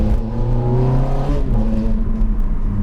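Ferrari F430 F1 engine revving while driving, a loud, steady engine drone with rising and falling harmonic tones as the throttle works, close and continuous throughout with no voices.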